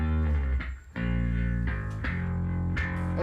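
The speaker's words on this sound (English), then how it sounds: "let's see what kind of distortion we got on this sucker" A bass guitar played through the CLA bass plugin with distortion engaged gives sustained, gritty low notes with a slight growl, several plucked notes in sequence, loud and close with no talking.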